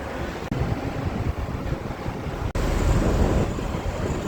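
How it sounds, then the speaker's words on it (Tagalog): Strong wind buffets the microphone outdoors on a sunny day in Abu Dhabi, a steady loud roar with gusting surges and a sharper burst toward the end, no voices. "Maaraw siya ngayon pero sobrang malakas yung hangin."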